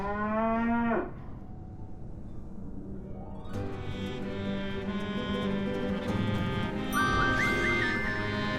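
A cow moos loudly in the Sam & Max video game, one long bellow that opens the scene, followed by game ambience with whistling tones and musical blips, no talk over it.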